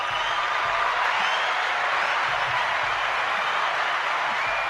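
Steady, dense crowd applause fills the room at a welcome for a guest lecturer, constant and fairly loud throughout with no break or talking.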